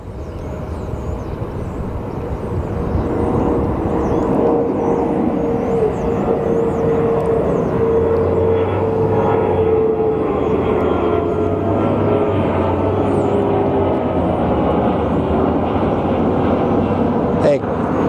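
SkyWest CRJ 200 regional jet at Phoenix Sky Harbor produces a steady, broad engine roar that builds after the first few seconds and holds, with people talking nearby over it.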